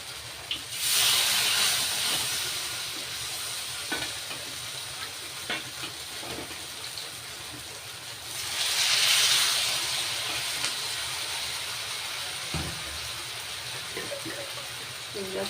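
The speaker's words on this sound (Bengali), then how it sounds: "এইবার বড়াগুলো একে একে দিয়ে দেবো।" Rice-flour pumpkin flower fritters, made with salt, turmeric and chopped green chili, frying in hot oil. The hiss swells loudly twice as batches go into the pan, with a steady, softer sizzle in between.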